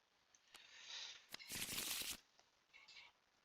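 Playing cards shuffled back into a deck during a tabletop card game, a close burst of riffling with a few sharp flicks before and after, alone without talk.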